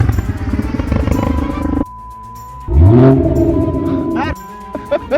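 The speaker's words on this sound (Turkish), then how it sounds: "Arabayı baştan başlayacağım." A BMW 430i xDrive engine turns over and catches, then revs hard with a rising, sweeping roar before settling back, loud and close.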